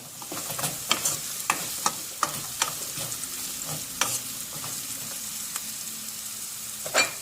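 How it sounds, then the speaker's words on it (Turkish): Carrots sauté in hot oil with onion, pepper and garlic in a pan, a steady close sizzle broken by regular scraping stirs and a few clinks of the utensil, with no voices. "Biraz yağda havucumuzu soteleyeceğim."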